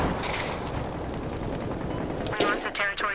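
Battlefield Hardline gunfire: steady rattling burst of shots under a dense wash of battle noise, moderately loud, with a sharp crack near the end and voices in the mix.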